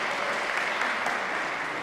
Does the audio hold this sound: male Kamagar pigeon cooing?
no